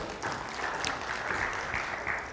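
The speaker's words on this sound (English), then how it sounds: "Give him a round of applause" A church congregation gives a round of applause, a short, steady patter of many hands clapping at moderate level with no speech over it.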